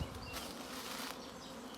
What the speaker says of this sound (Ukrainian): Залітають бджоли, але поки ріще не прилітав